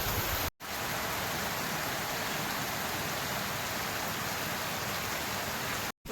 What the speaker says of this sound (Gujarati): કેટલો વરસાદ છે.